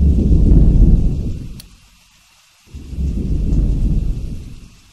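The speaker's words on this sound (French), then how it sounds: "l'orage est terrifiant là, le bruit là" A thunderstorm in a Bigfoot-hunting video game gives two heavy, deep rumbles of thunder separated by a brief lull, loud and close, with faint rain beneath.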